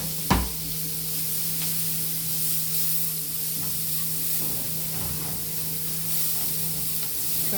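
Curry vegetables sauteing in a pan give off a steady sizzling hiss, with a sharp knock at the start and occasional stirring scrapes, close and continuous, with no talk.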